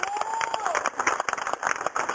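A congregation at an evangelistic church service claps in a brief burst of applause, mixed with voices and a thin whistling tone.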